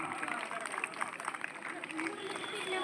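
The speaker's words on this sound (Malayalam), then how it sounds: "ഒരു ബിഗ് ക്ലാപ്പ്." Applause from a crowd cheering a team of young athletes from St. Thomas LPS Uppukulam, a steady patter of clapping with an announcer's voice over it.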